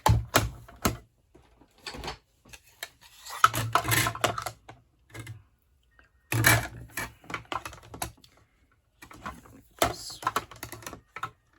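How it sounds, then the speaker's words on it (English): Clicks and clunks come from a hand-cranked die cutting machine feeding a horse-shaped die through card, in bursts of cranking with short pauses, close and fairly loud. "So now we need to die cut him out."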